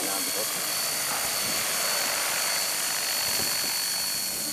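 Electric RC helicopter flying a circuit outdoors, its high, steady rotor whine and buzz continuous throughout, with people talking nearby.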